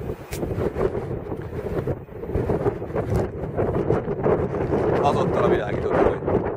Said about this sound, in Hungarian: Igyekszem hangosan beszélni, mert nagyon erős a szél.